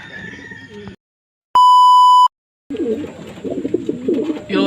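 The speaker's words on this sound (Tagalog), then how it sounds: "So ayan nga yung ibon." Racing pigeon after a pooling race, with a soft warbling coo-like bird call up close, cut off by a sharp steady electronic beep from the timing clock, then a longer burst of busy bird sounds.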